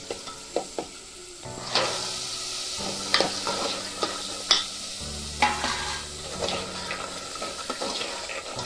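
Soaked chickpeas drop into a hot pan and get stirred, with a close sizzle, a few clattering knocks and repeated scraping strokes.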